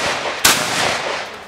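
A shotgun fires at a duck shooting event, one sharp, loud blast near the middle of the clip with a crack and a ringing tail, over steady outdoor background noise.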